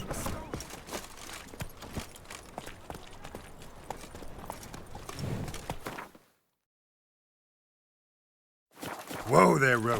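Roach the horse walks in The Witcher 3, hooves clip-clopping in a steady rhythm close by under a busy game soundscape, then a few seconds of silence before louder sound returns.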